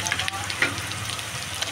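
Onions sizzle and crackle in a hot pan as a desi chicken curry is started, a short close burst of frying with a light stir partway through.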